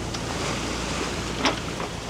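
A sailing yacht motors under engine into a headwind and waves, giving a steady broadband rush of wind, water and engine noise with a brief splash, no speech.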